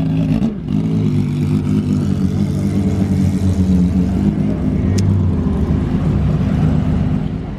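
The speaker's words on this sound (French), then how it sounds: "Et il y a la mythique Ferrari F50 qui arrive juste derrière ce Qashqai." Ferrari F50 supercar engine rumbling loudly and steadily as it drives past on a Monaco street, a continuous deep roar with no talk over it.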